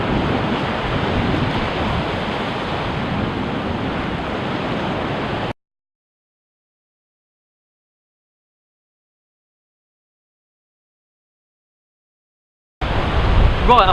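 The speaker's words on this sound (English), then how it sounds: "So I'm just going to wait for a big wave now." Ocean waves break on a rocky coast with a steady, full rush of surf and wind, cutting to silence midway before the roar returns loud at the end.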